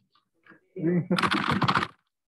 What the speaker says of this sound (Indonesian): Gue ngetik gini.